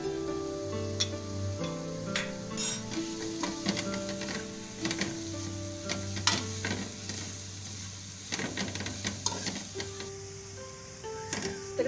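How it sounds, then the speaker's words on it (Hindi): Chicken pieces with carrot and black pepper fry briefly in a little oil for a vegetable soup. Clanking stirring and scraping strokes run irregularly over a light sizzle, with no speech. "तकरीबन 2 मिनट हमने इसको फ्राई किया, बिल्कुल हल्का थोड़ा सा ऑयल था।"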